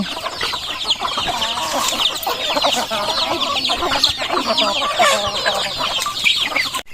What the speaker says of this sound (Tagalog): medyo dumadami na itong mga native chicken natin